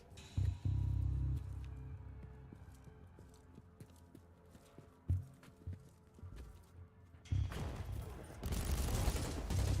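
Dual auto pistols fire in a video game: short bursts of gunfire, some loud and punchy early on, then a denser, louder barrage toward the end, with quieter game noise between bursts.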